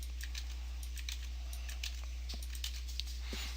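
Quiet, scattered keyboard key clicks as shortcuts are tapped out on a computer keyboard, irregular and close, with no voices.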